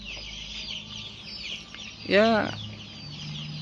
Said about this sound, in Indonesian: butuh asupan nutrisi yang baik untuk ayam pedaging ini